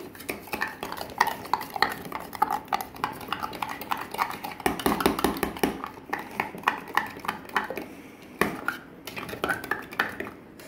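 Spoon stirring and beating yogurt (curd) in a bowl for gondhoraj lebu ghol, a steady run of close scraping, clinking strokes against the bowl walls with no talking.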